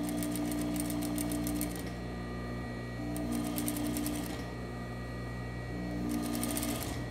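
A sewing machine stitches a set-in sleeve seam on a longer stitch length, running steadily in three close bursts with brief slower pauses, with no voices.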